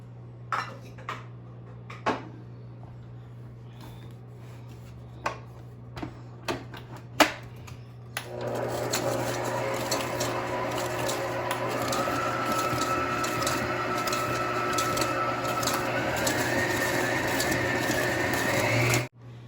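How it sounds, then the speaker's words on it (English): Sugar, butter and vanilla are dropped into a bowl with scattered clinks before an electric mixer switches on and creams them with a loud, steady whir that runs to the end, then cuts off abruptly. "Now we'll put the sugar, butter, and vanilla in a mixer."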